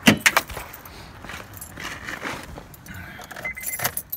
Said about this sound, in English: You're gonna get your key.